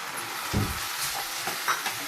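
Onions and spices stirred and sautéed in a pan for a Tamil pepper-tomato kuzhambu, a soft low sizzle with one brief louder scrape of stirring near the start, faint and steady otherwise.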